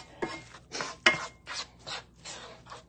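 Vegetables for vegan sloppy joes are stirred and scraped in a 12-inch skillet, about seven short, rhythmic scraping strokes with small clinks, close and fairly quiet, with no talking.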